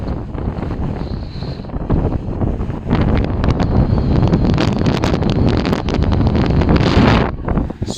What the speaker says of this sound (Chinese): 你们听着风声。